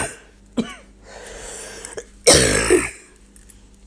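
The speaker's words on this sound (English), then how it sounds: "Excuse the cough, but I can't help it." One person coughs at close range, giving a short throat-clearing burst, a quieter rasp, then a heavy, loud cough near the end.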